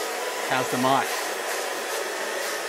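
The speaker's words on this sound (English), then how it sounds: "excuse the noise of the hairdryer." Hairdryer blowing in a barber shop, a constant loud rushing hum that runs through the clip, with a man briefly asking a question over it.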